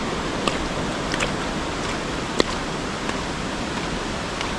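Strong flood water rushes continuously in a broad, loud roar, with a few brief clicks and taps standing out over the flow.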